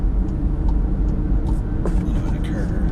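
A 2019 VW Jetta on an interstate on-off ramp, with steady road and engine rumble from inside the cabin, continuous and fairly loud, plus some faint overlapping sounds.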